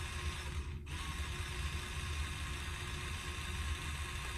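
A kHelfer electric spin scrubber runs at 350 RPM in its high-speed deep-clean setting, a steady, close mechanical whir with a ratcheting gear rattle that barely dips once near the start.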